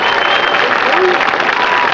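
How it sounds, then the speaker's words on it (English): Steady, dense applause from a crowd at a high school graduation ceremony, loud and continuous throughout without any break. "Thank you very much for your appreciative applause"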